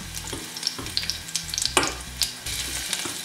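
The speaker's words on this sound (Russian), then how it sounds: "Обжарим на оливковом масле чеснок" Garlic frying in olive oil, a close, steady sizzle with crackles and small pops plus occasional scraping and clinking from stirring, with no talking.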